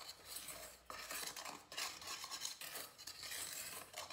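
Dessert ingredients including chocolate are stirred together in a bowl, a quiet close scraping and clinking of utensil against the bowl in uneven strokes, with no talking.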